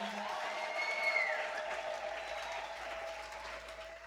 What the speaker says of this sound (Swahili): Tumpe Yesu tena makofi mazuri